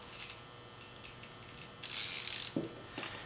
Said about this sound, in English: press down on the ratchet handle using body weight for added leverage